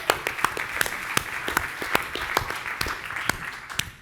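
Audience applause in a masterclass setting, moderately loud clapping with sharp individual claps standing out over a steady crowd wash, continuing without pause.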